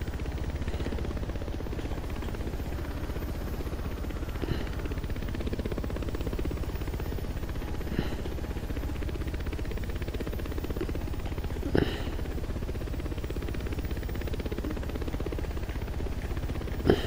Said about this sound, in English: Oh, I need my helicopter.